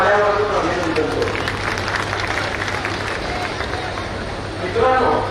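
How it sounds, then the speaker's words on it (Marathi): An audience at a Sangola community bride-and-groom introduction gathering and wedding ceremony claps for the organisers, a steady dense wash of applause from a large crowd that swells again near the end. "संयोजकांचं आपण टाळ्या वाजवून अभिनंदन करू"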